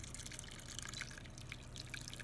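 Herbal elderberry liquid poured through a strainer into a measuring cup, a soft continuous trickle with light drips, close and fairly quiet, no talk.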